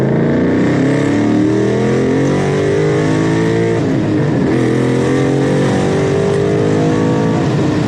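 A V6 car engine pulls hard in second gear, a loud continuous rising roar with climbing harmonics and a brief dip mid-pull, heard close from inside the car.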